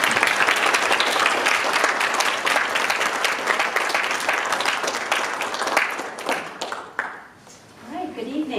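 A university lecture audience applauds to welcome a speaker: sustained loud, dense clapping that fades away near the end as a voice begins to talk.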